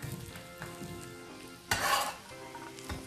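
Sliced zucchini frying in a pan of melted butter while being stirred, with a soft steady sizzle and scraping stir sounds, and a louder burst of sizzling partway through.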